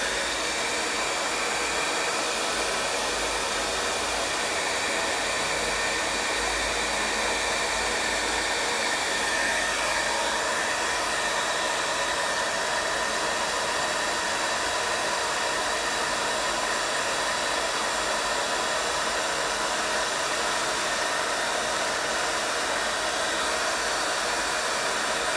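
A hair dryer blows steadily and loudly at close range, drying a sunset painting of acrylic-style colours, its broad whooshing roar continuous and unbroken throughout with no talking.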